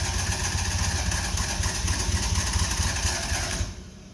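An old, neglected French car's engine cranking and sputtering as it tries to start, a continuous loud churning drone that holds steady for several seconds, then drops away abruptly near the end, with no talk.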